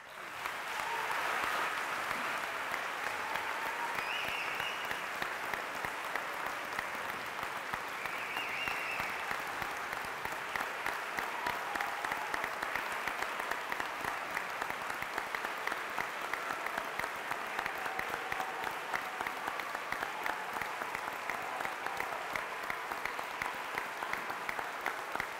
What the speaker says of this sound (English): let's begin our celebration with giving an applause to Dr. Curtis Sexton.